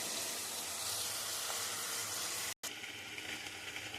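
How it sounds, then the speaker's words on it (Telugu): Chopped ripe tomatoes fry in hot oil for tomato chutney, giving a continuous, close, even sizzle that cuts out for a brief moment before resuming. "తరిగి పెట్టుకున్నటువంటి పండు టమోటాస్ని ఆయిల్లో వేయాలి"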